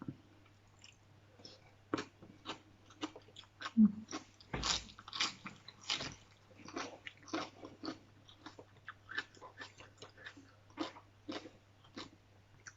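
Someone eats spicy salmon salad, with close, quiet chewing and wet biting and crunching in an irregular rhythm, plus occasional breaths.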